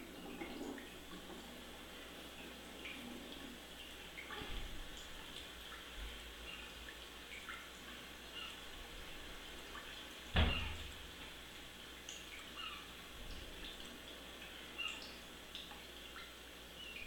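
Water being collected in the survival video game The Forest, a soft running trickle like a filling container, with a brief louder splash partway through and quiet ambient nature sound around it.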